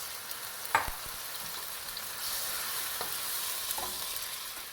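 Mussels in their juice sizzle and crackle steadily in a hot pan, with a couple of sharp clinks from a utensil, fairly quiet and close.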